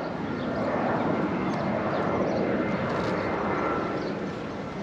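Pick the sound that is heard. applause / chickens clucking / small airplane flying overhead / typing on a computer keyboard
small airplane flying overhead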